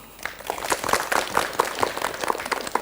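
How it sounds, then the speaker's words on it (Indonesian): A studio audience at a televised religious talk program claps at moderate volume, individual claps audible in a loose, uneven rhythm that builds slightly then holds. "Tepuk tangan buat Semarang dulu dong"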